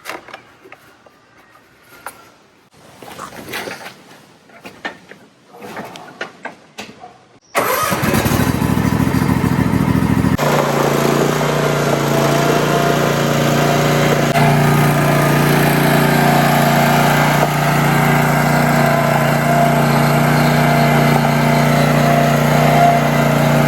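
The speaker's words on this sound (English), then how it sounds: "I can already tell by the way the engine sounds that I definitely should have changed that oil sooner" A Kawasaki FR691V V-twin engine on an Ariens zero-turn mower cranks over and catches, then runs at a steady, loud, close idle with a constant drone, freshly filled with oil after being overdue for an oil change.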